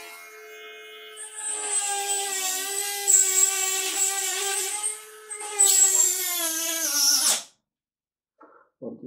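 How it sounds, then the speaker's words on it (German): A small battery-powered saw whines steadily with a strained, shifting pitch while cutting wood, then stops abruptly, followed by a few faint knocks. "Das ist eigentlich eine kleine Säge,"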